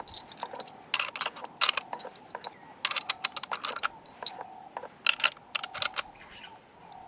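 Metallic clicks and rattles as five rounds are pressed one by one into a bolt-action rifle, irregular bursts of snapping and scraping close up, with no speech.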